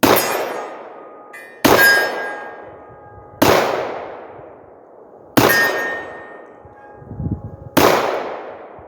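Five revolver shots striking steel targets, each a sharp loud crack followed by a ringing metallic clang that decays over a second or more, evenly spaced with gaps between, no talking.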